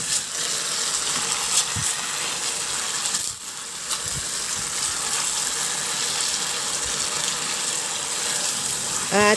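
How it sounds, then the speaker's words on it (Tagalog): Water is poured into a pot of beef simmering in soy sauce, oyster sauce and tomato sauce, making a steady splashing rush close by with a few clinks, no voices. "At sa puntong ito, maglagay na ako ng tubig."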